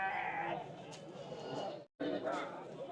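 Goats bleat repeatedly at a small livestock market, loud and close, with market chatter and voices talking throughout.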